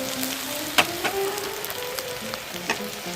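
Onion and garlic leaves frying in a pan, a steady soft sizzle broken by a few sharp pops and the clink of stirring, close and alone.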